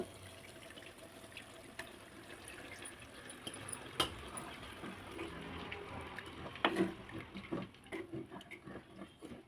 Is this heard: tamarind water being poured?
yes